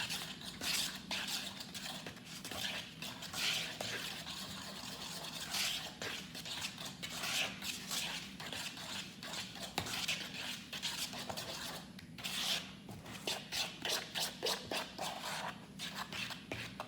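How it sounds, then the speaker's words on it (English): A fork stirs conditioner and baking powder in a bowl, giving a steady run of soft scraping and tapping clicks against the bowl's sides, close by, with no talking. "now what we're gonna do is take our fork again and we're gonna just mix it up"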